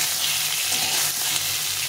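Taro pieces frying lightly in hot oil give off a steady, close, dense sizzle that holds evenly throughout.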